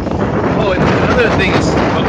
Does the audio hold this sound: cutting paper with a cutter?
no